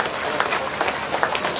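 Audience clapping at the Vuolenkoski tractor pulling contest, a steady outdoor patter of many hands cheering on a puller, with a commentator's voice running over the applause.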